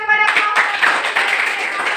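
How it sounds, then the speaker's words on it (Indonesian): Classroom audience of students clapping after a high school Indonesian lesson presentation, a dense, steady patter of hands lasting about two seconds, fairly loud, with some voices mixed in. "berikan tepuk tangan kepada"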